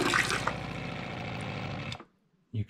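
Water runs steadily from the faucet of a 2015 Tab Max-S camping trailer, fed by an accumulator tank, a smooth continuous rush lasting about two seconds before cutting off abruptly, then a brief knock.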